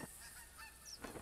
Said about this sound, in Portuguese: O ganso tá passando, ó.